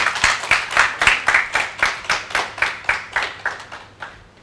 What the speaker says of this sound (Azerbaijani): Mən təklif edirəm alqışlayın və biz dəvət edək qəhrəmanımızı.